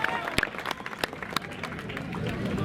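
A political rally audience claps at a speech by Navjot Singh Sidhu in Aurangabad, with loud, irregular sharp claps over a busy crowd murmur.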